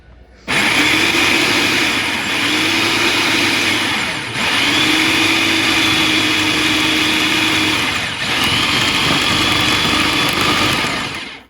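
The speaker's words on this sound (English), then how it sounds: "I've never mixed dough together in a food processor." A food processor mixes digestive cookie dough, a loud, steady motor whir broken by two brief dips as it pulses, with no voices.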